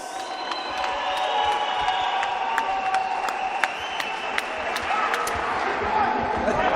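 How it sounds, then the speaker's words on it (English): Boxing crowd in Auckland applauding two boxers after a fight that went the distance: a steady crowd roar with scattered sharp claps and cheers, and voices audible over it. "Let's give the two boxers a big round of applause."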